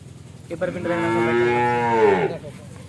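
Cow lowing at a cattle farm, a single long, loud moo lasting nearly two seconds, close by and clear with no talk over it.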